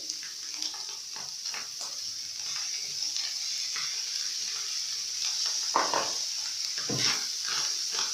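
Minced beef stew with capsicum and tomatoes sizzles steadily in a pan while a spoon stirs through it, with occasional soft scrapes and clinks over the constant frying hiss.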